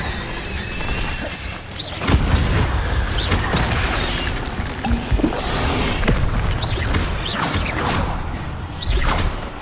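Incendio fire spell cast in Hogwarts Legacy, loud whooshing bursts and fiery swells with mechanical clatter and booms, repeating across the clip in quick succession.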